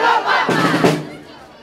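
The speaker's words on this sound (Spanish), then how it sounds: "sus fieles devotos que no perdían la oportunidad de vitorearla al grito de Carmen Guapa" Devotees at a religious procession for the Virgen del Carmen in Melilla raise a loud collective shout, a brief burst of crowd cheering that swells and then fades out.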